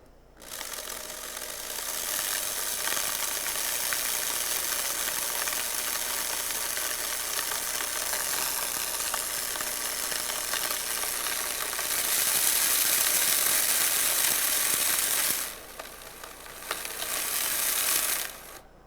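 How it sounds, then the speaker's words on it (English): Shrimp are ground to a grits-like texture in a whirring appliance, a loud continuous mechanical grinding drone that swells briefly louder near the end, then dips and resumes before cutting off. "we are also going to grind the shrimp so that it takes on the same texture as the grits"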